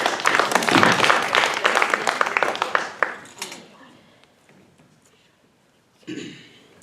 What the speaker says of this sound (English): claps for Andrew.